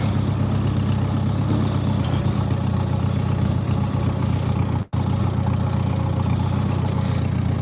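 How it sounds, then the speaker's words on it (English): A quiet-running farm tractor idles with a steady, even low rumble close by, continuous throughout apart from one brief dropout, with no talking. "The one thing that's really crazy about this tractor is he's super quiet."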